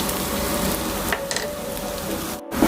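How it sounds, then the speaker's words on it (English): Onion rings fry in sesame oil in a pan, giving a steady close sizzle and crackle with a few soft stirring clicks and no talking. "what I've started off with is some sesame oil, and I've just done some little kind of onion rings"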